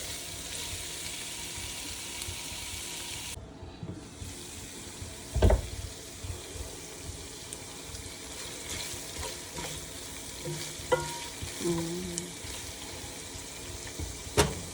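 Shrimp and pork being sautéed in a pot, a faint continuous sizzle broken by irregular clanks and scrapes of a utensil against the pot and no voices.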